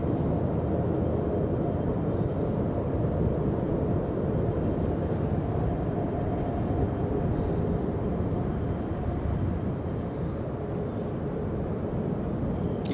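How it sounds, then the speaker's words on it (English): Reverse thrust of an airliner landing at Los Angeles International Airport, heard from more than two miles away as a steady broad distant roar and rumble lasting throughout, with no talk. "You can still hear the reverse thrust, which is insane since it's more than 2 miles away."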